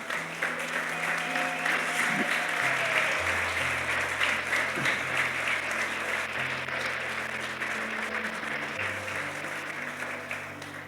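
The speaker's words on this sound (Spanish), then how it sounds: "Dale un aplauso a la paternidad de Dios." Loud, sustained applause from a church congregation during a Spanish-language sermon, a dense roar of clapping over a steady sustained organ or keyboard tone underneath, with a few whoops from the crowd.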